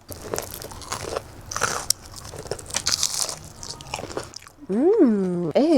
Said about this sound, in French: Tout de suite croquer dans un os.